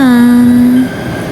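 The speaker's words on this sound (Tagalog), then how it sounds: "Ayan na po ang train at ako'y sasakay na." A loud, steady tonal whine, like a horn or brake squeal, sounds as an LRT light-rail train pulls into FPJ Station in Manila. It holds for under a second, then cuts off into rumbling station noise.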